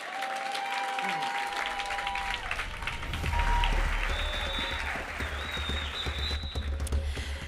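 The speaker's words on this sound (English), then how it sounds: "let's give all 10 country competitors a big round of applause" Audience applause for ten country competitors at the WorldSkills Africa Swakopmund 2022 closing ceremony, sustained crowd clapping under a speaking voice, with a tonal hum and whistle-like tones mixed in.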